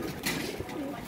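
A mated pair of pigeons coos in low, rounded, repeated calls, fairly close and steady across the moment.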